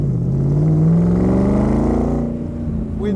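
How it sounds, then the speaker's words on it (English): A Factory Five replica of a 1965 Shelby Cobra with side pipe exhaust revs loud and close, engine note climbing then easing off, deep and throaty with no talking. "we're gonna show you what makes those side pipes sound so great"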